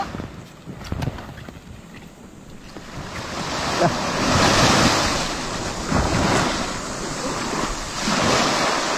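Ocean waves at high tide rolling and washing continuously, a steady loud surf roar swelling and fading, with wind buffeting the microphone.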